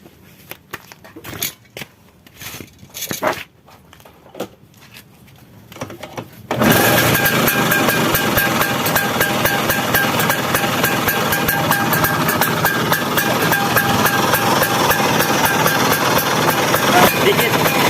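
Vespa PX scooter engine with freshly set ignition timing fires up after a few quiet seconds of handling noise, then runs at a loud, steady, buzzing idle right up close for the rest of the clip.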